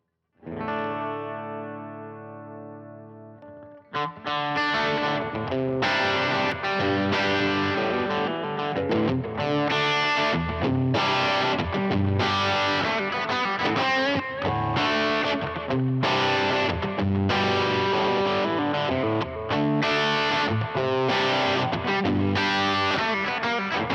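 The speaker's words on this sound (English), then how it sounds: "We're just going to stay on the left side of this pedal because we're just trying to get like a blues breakery thing." Electric guitar through a Blues Breaker-style overdrive pedal with delay and spring reverb: a sustained clean chord rings out first, then a loud, steady stretch of driven chords and riffs continues to the end, with no voices.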